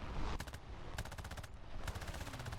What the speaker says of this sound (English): let's go with the machine gun